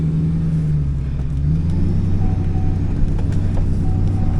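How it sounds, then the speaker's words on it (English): A 2005 Chevy 2500HD with a Duramax diesel pulls away, giving a steady low engine drone and rumble heard from inside the cab. The note rises slightly as the truck moves off, with no talking. "Let's drive this thing and see what the Duramax life is all about."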